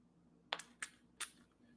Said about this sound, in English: Okay, so let's give this a spray.